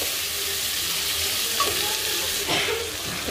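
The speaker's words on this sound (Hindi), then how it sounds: "प्याज को जो है गोल्डन ब्राउन होने तक भूनेंगे अभी हम लोग" Chopped onions sizzling in a hot pan while being stirred, a constant low crackle with occasional scraping strokes, close by and fairly quiet.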